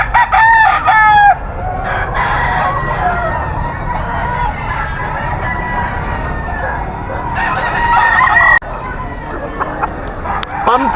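A pumpkin-colored bull stag gamefowl rooster at a seller's yard in Bocaue crows loudly up close, one crow at the start and another later, over a bed of clucking and distant fowl with faint background voices.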